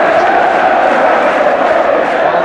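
Thousands of fans at Chelsea v Sheffield United in the 1976/77 season roar continuously, a loud unbroken stadium cheer that swells slightly without letting up.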